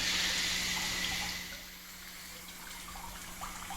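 Water running from a newly repaired residential water line, a steady hissing flow that is stronger at first then settles to a softer, continuous stream, fairly close, with a low steady hum beneath.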